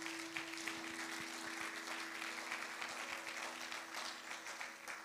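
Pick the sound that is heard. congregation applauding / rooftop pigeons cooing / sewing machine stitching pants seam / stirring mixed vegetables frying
congregation applauding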